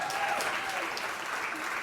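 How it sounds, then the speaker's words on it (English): Brief, steady round of audience applause at a talk on refreshing messaging strategy, moderately distant and fairly quiet, with no voices over it. "Can we give a quick round of applause to Garrett, please, for being so amazing?"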